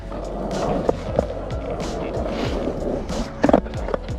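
Carbon fiber skateboard rolling and spinning on pavement, with steady wheel roar, a few sharp clacks of the board, and a cluster of louder knocks near the end; the skater says nothing.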